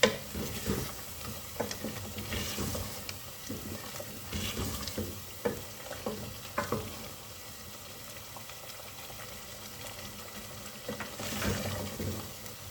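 Chicken and spices frying in a pan for Degi chicken korma, a continuous moist sizzle with intermittent scraping and stirring clatter, fairly quiet and without talk.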